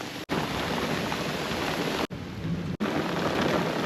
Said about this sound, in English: now I've got a nice storm rolling in